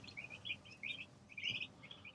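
Chickens on a commercial meat-chicken farm, day 26 of the flock, give soft, high chirps in quick, irregular bursts, faint and close, with no talking.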